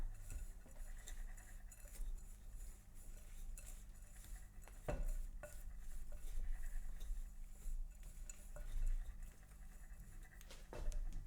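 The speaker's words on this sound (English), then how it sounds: "And give that a good stir." A spoon stirs a yogurt and cookie crumb dessert mixture flavored with tiramisu Baileys in a bowl, giving soft scraping and occasional light clinks at a steady, quiet level.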